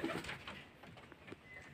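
Pigeons in a loft coo softly in a brief, faint burst of low throaty calls, heard alone without speech.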